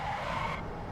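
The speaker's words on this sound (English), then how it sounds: "reverse donuts" A front-wheel-drive VW Jetta doing reverse donuts in iRacing at Summit Point, a brief, loud tire squeal over steady engine and road noise.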